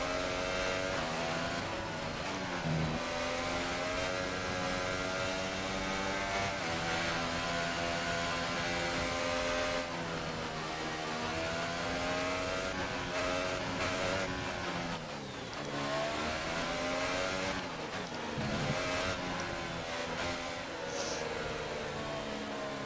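An F1 car in the racing game F1 2018 revs through burnouts to heat its rear tyres, a loud, sustained high engine whine that rises and falls in pitch over a steady droning background, with no voices.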